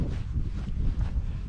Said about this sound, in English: Certainly the breeze and the wind has cooled me down.